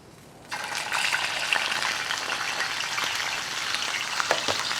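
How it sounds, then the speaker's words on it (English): Tilapia frying in very hot oil, about 375 degrees, in a pan for crispy escabeche: a steady loud sizzle bursts in after half a second and keeps crackling evenly with occasional pops. "we're gonna fry this in a hot pan"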